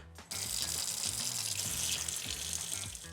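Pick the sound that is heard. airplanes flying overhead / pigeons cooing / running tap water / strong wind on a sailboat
running tap water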